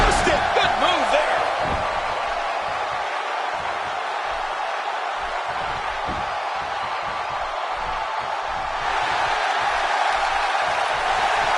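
A Los Angeles arena crowd in WWE 2K17 produces a steady, loud wash of cheering and roaring throughout. A few thuds and a brief whoop come near the start, and the noise swells again toward the end.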